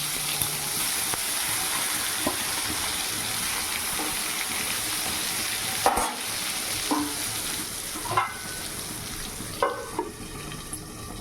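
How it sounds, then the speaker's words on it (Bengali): Brinjal slices fry in oil in a wok, with a steady hiss of sizzling and occasional clinks and stirring scrapes breaking through near the end. "তো বেগুন ভাজবো, আগে তেল রয়েছে"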